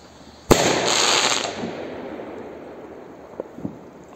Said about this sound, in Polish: Więc odpalamy rakietę z zestawu od Diabolo, z Lidla